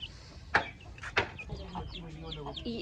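A hen clucks softly in short, scattered calls nearby, with a couple of sharper squawks over faint background sound.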